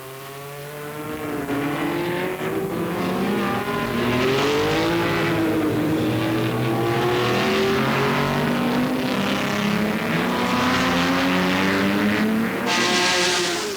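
Several racing cars lap the banked Montlhéry oval at full throttle during the 1993 Tour Auto, engines howling loud and sustained with rising and falling pitch as they pass, no voices over them.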